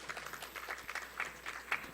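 Sparse, scattered clapping from a small audience of parents at a university admissions briefing in Korea, quiet and a little distant, fading in and out as the lecture closes.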